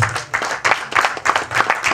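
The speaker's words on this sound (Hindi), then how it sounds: "इनके लिए ज़ोरदार तालियां हो जाए" An audience claps on stage at a trailer launch for the film Teri Bhabhi Hai Pagle, a dense, loud wash of applause swelling in waves throughout.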